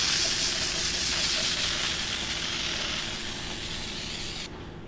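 Copper gasket spray hissing from an aerosol can onto the engine block of a turbo M20 stroker build, a steady close spray that runs for several seconds and then cuts off abruptly.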